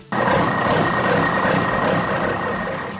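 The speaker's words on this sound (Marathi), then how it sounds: "ट्रकचा." A truck sound from a vehicle-guessing game, with a heavy engine drone and a steady high tonal whine running throughout for about three seconds, continuous and close, with no talking.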